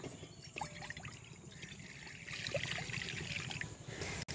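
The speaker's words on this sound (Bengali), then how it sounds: "কড়াই দিয়ে দিচ্ছি জল।" Water poured from a vessel into a wok on a stove, making a steady, fairly faint trickle and pour with slight splashy texture, a brief knock near the end, and no talking.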